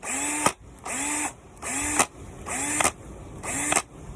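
A brushed electric drill revs up and stops five times in a steady rhythm, each burst a loud whining motor with a rising pitch that cuts off abruptly, heard close up with no talking.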